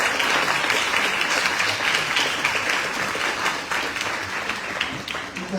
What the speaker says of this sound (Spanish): Vamos a darle un fuerte aplauso a nuestro ponente del día de hoy